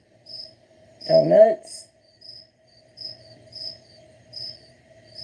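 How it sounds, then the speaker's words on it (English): Crickets chirp steadily outdoors at night in short, evenly spaced pulses, faint and alone, with one brief spoken word cutting in near the start. "Yeah, those crickets."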